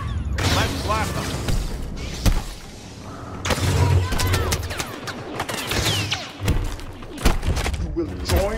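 Rapid blaster fire crackles in dense, repeated bursts throughout a battle in Star Wars Battlefront, mixed with thuds and a busy, loud game soundscape that may include voices.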